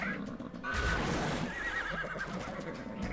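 A horse in the video game ARK: Mobile lets out a clear, wavering whinny that rises and trembles for about a second, over a soft game background.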